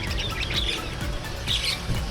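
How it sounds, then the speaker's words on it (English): Caged birds on a street in Hanoi give repeated sharp squawks and short chirps in irregular bursts, fairly close, over a steady background hum of street noise. "Don't know why such beautiful birds are in a cage."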